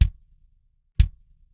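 Two deep, dry kick drum hits, recorded on a D6 microphone in a swimming pool, land about a second apart, each a punchy low thump with a sharp click that decays quickly into silence.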